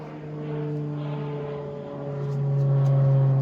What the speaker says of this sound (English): The plane! That's a twin prop, pretty low.